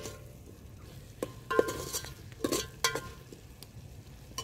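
Mutton keema sautéing in a pan in a village-style home kitchen, with a soft sizzle under scattered spoon scrapes and clinks against the pan, no voices.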